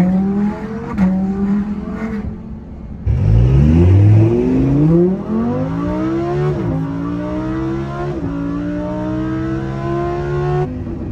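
Lamborghini Huracan accelerating hard, the engine note rising through several gears with brief dips at each upshift, loud and close with no talking.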